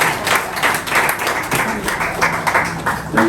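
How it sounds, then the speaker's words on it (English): A crowd on a campus political rally applauds a speaker on stage, with sustained clapping of many hands, fairly loud and near, swelling in brief surges and carrying faint crowd murmur beneath. "let's give her a round of applause"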